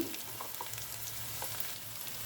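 Cauliflower fry with chili powder and coriander powder sizzling in a pan as it is stirred, a steady close hiss with a few soft spoon scrapes and no talk.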